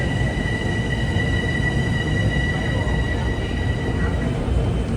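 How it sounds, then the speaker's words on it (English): A Metro North commuter train rumbles loudly through Harlem 125th Street station, with a steady heavy roar and faint high wheel squeals across the whole span. "this train isn't going to Yankee Stadium"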